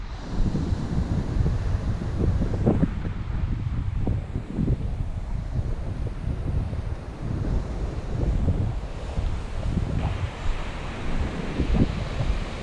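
Steady wind roars over the microphone at Stockton Beach while the surf rumbles constantly underneath it. The sound stays loud and continuous, with no voices heard.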